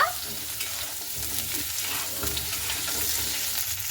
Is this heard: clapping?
no